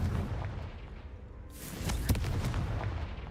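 A Confringo fire spell blasts in the Hogwarts Legacy video game, a sudden sharp burst with a crackling boom over rumbling game background, fairly close and loud.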